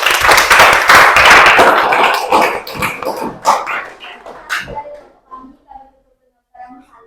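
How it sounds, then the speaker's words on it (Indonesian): Students applauding in a classroom after a group presentation during a school guidance-counselling lesson: a dense burst of clapping that thins out and fades as voices take over. "Ya, kita beri tepuk tangan dulu."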